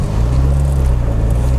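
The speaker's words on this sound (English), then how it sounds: "I love the way it spits and burbles" A Volkswagen Golf Mk1 engine running close by with a steady, low, throbbing burble, loud and alone for a moment.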